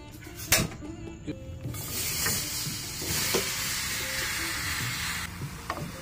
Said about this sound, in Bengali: এখন আমি একটা ফ্রাই প্যানে টমেটোগুলো দিয়ে দিচ্ছি সিদ্ধ হওয়ার জন্য।